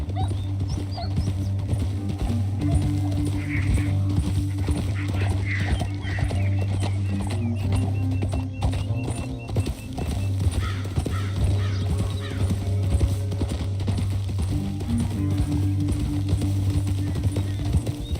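Steady clip-clop of horse hooves trotting continuously under a low droning background, with occasional snorts and faint voices, in Red Dead Redemption 2.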